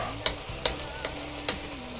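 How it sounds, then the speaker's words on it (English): Steady sizzling of a Chinese stir-fry frying in a pan, broken by a few sharp metallic clinks of a utensil striking it. "Keep frying it around and stirring it around"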